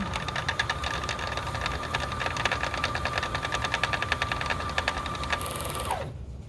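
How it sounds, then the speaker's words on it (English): Sewing machine winding a bobbin unevenly with a steady, close, rapid whirring hum and rhythmic rattle that runs continuously and then cuts off abruptly near the end. "Does not want to spin the bobbin very evenly."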